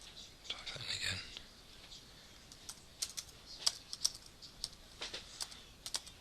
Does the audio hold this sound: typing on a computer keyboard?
yes